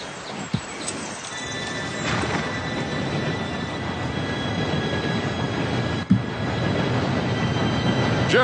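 A steam train arriving in the Red Dead Redemption 2 video game during a train robbery, a steady rumbling roll of wheels with faint squeal and a few sharp clanks, continuous and fairly loud with no talking.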